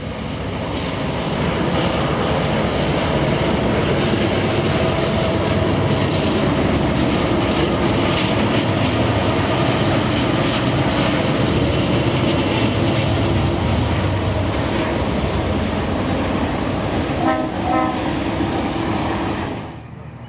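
A Norfolk Southern train passes close by in Altoona, a loud, sustained roar of rolling wagons with clattering wheels that holds steady for most of the run before easing off at the end.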